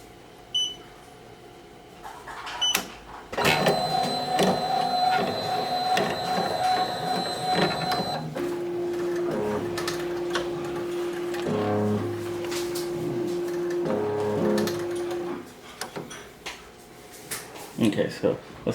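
An embroidery machine traces a 3D puff foam design on a hat, producing whirring, stepping motor tones and mechanical clicks with pauses in between, under a person talking nearby.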